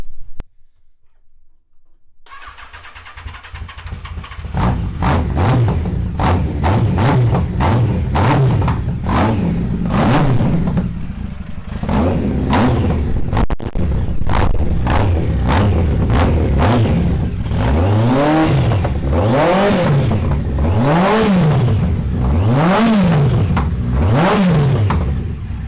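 Custom cafe racer motorcycle engine, built as a sixtieth-birthday gift, starting up and revving hard again and again, loud and close, with rising and falling blips that grow sharper toward the end.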